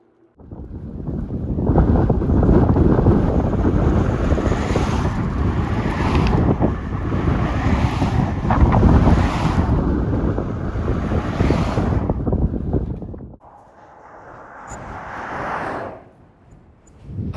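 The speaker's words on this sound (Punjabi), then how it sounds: "ਹਵਾ ਇੰਨੀ ਕੀ ਤੇਜ਼ ਆ ਅੱਜ" Strong wind roars across a mountain road in Ladakh, loud and continuous with heavy microphone buffeting for about twelve seconds, then drops to a lighter gusting rush before swelling again.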